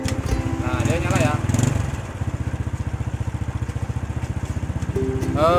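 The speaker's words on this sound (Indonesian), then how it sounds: "Oke, mesin menyala." Suzuki Supra motorcycle engine fitted with a new CDI unit running at a steady idle, a continuous rapid low putter close by, briefly revving at the start and end, with someone talking over it.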